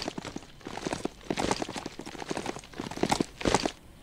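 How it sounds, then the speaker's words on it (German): Irregular video game horse hoof clops and scuffs on steep, uneven ground in Biomutant, moderately close, with bursts of scrabbling as the footing slips. "Eigentlich erwartet man, dass so ein Pferd da einfach hochmarschiert, wie so eine Gazelle."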